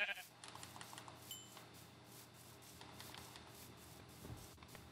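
Bleating sheep in Minecraft, brief game-sound calls scattered across a faint, steady ambient backdrop, with a louder burst at the very start.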